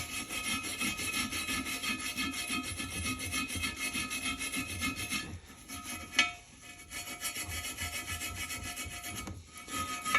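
Steady rasping scrubbing over an aluminum wheel as aircraft paint remover is worked off bare metal, a continuous close, fairly quiet back-and-forth rubbing with a brief pause and a sharp knock midway.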